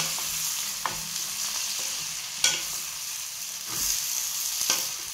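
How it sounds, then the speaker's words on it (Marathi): Stuffed brinjals and masala stirred and fried together in a pan make a steady close sizzle, punctuated every second or so by sharp scrapes and knocks of a spoon against the pan, with no voices. "आता मस्त मसाला परतलाय आपला. हे चांगलं मिक्स करून घेऊ आपण."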